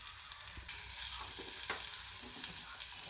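Shredded cabbage sizzles and fries in a pan as it is stirred, with soft scraping strokes over a constant crackling hiss, close and moderately quiet.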